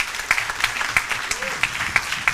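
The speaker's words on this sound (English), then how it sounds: "a big round of applause for Gaston Nievas." Sparse, rhythmic clapping from a small audience at the World Inequality Conference, a handful of distinct hand claps spaced evenly with a voice briefly audible underneath.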